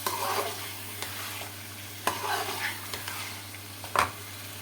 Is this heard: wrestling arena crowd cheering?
no